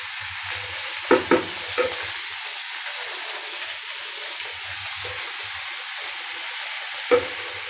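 Spinach greens fry in a pan with a steady soft sizzle, broken by a few clanking stirs of a spoon against the pan, close and without talk.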